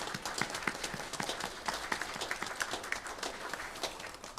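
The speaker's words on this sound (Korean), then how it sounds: "한번 박수로 축복해 주시길 바랍니다." A church congregation at a Sunday service clapping together in blessing, a soft, fairly distant patter of many hands with a loose, uneven rhythm throughout.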